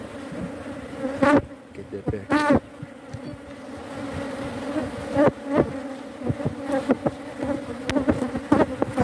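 Steady droning buzz of many honey bees around a hive, with individual bees swelling louder as they pass close by.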